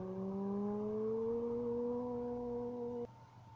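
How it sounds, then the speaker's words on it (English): A speed boat engine drones loudly and steadily, its pitch rising slightly over a few seconds before cutting off abruptly, with no voices. "Speed boat."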